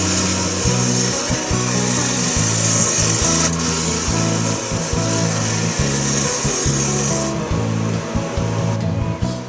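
Carbide cutter turning side-grain exotic wood on a lathe for a twister hat bowl, a steady close scraping and rubbing over the motor's low hum, with rhythmic pulses as the cutter bites, continuous and loud.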